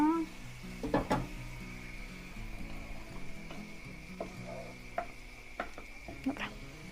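Food tossed into a hot pot of risotto with a soft sizzle, followed by scattered clinks and scrapes of cookware against a low kitchen hum.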